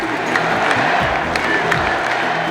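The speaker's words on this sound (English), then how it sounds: "I expect that crowd to be extremely loud, a little bit rowdy, and ready to roll." A dense, loud arena crowd at a 1997 Chicago Bulls championship basketball game roars and cheers continuously, with scattered shouts and whoops rising out of the steady wash of noise.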